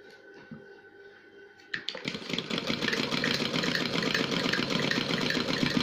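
A sewing machine starts up after a quiet moment and settles into a fast, steady whirring stitch with rapid mechanical clatter, close and continuous while a ballerina cushion cover is sewn.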